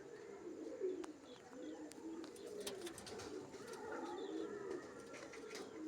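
Racing pigeons cooing repeatedly in soft, low, rolling calls, with a few faint chirps and clicks in the background.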